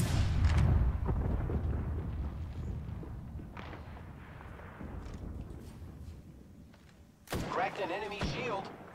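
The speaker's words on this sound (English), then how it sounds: "Throw my grenade out" A thrown grenade in Apex Legends bursts with a heavy thud near the start, followed by scattered impacts and game noise, then a sharp crack and louder clatter near the end.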